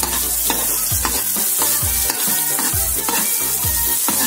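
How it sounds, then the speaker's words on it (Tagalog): Sliced onion rings sauté in a pan on medium gas, loud close sizzling and frying with repeated clattering scrapes of stirring at a steady quick rhythm. "sibuyas na hiniwa natin ng pabilog. So, igisa po natin."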